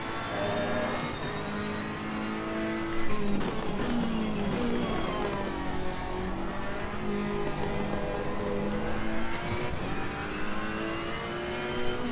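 Ferrari race car in the racing game Assetto Corsa Competizione at the Eau Rouge corner: a loud, continuous simulated engine roar rises and falls in pitch through gear changes, with a brief surge near three seconds and no speech.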